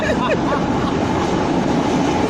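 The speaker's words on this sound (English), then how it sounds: "My God, here comes the train." A Fortaleza, Brazil metro train pulls into the station with a loud, steady rumble and rhythmic wheel clatter close by, faint voices in the background.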